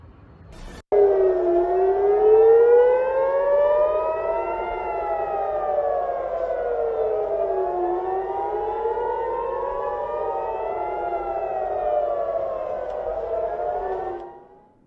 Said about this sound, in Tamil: இதனால் இஸ்ரேல் முழுவதும் சைரன் ஒலிகள் ஒலிக்கப்பட்டன